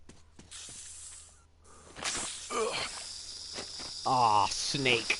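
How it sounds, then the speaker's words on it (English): Mutated snake hissing in the video game Metro Exodus, with a loud breathy hiss and rasping calls over footsteps and game ambience. Someone talks partway through. "A mutated snake."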